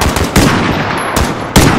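Loud gunfire in the video game Call of Duty: Modern Warfare (2019), sharp heavy shots at about one-second intervals with booming tails, over continuous battlefield noise.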